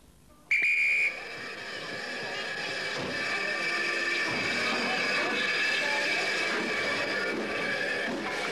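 A loud steam whistle blasts briefly on the Kent and East Sussex Steam Railway, then the steam train's rumbling, hissing noise builds and continues steadily.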